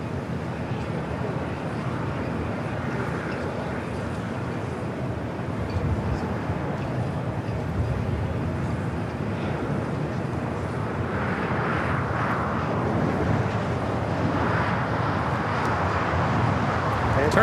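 Turkish Airlines Boeing 777-300ER taking off from the north side at LAX, a distant broadband jet roar that slowly swells over the stretch, with traffic-like background noise beneath.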